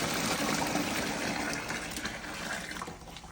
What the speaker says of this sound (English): we're gonna pour in our warm water with the dissolved salt and sugar